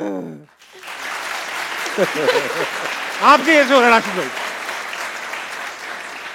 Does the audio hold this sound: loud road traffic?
no